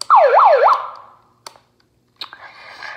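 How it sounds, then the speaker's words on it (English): A loud electronic wailing siren from a megaphone, sweeping up and down rapidly for under a second, followed by quiet clicks and a burst of noisy static. "You can turn it off, and you could use siren"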